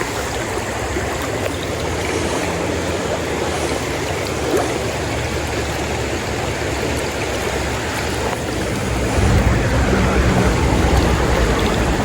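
Fast summer river current used for trout nymphing, a steady loud rush of broadband water noise that swells slightly toward the end, with no talking.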